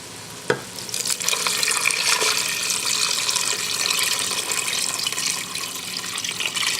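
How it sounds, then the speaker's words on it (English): No-sodium vegetable broth pours into a soup pot in a steady, continuous liquid splash after a brief knock at the start, close and moderately loud throughout with no talking. "So I'm going to pour this in, see if I can do this one-handed."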